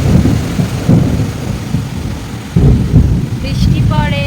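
A sudden midday thunderstorm, with heavy low thunder rumbling in repeated rolls and rain falling steadily underneath, loud and close; a voice speaks briefly near the end.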